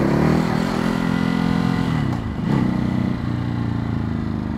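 A Kawasaki KLX 500 motorcycle engine runs with a steady, close, throbbing drone, briefly dipping in pitch and loudness midway before settling back to an even running note.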